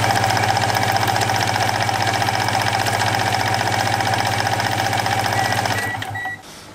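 A Yamaha DT125 two-stroke engine is spun by an electric starter with the spark plug fitted, a loud, fast, even mechanical whirring close up that runs for about six seconds before winding down and stopping.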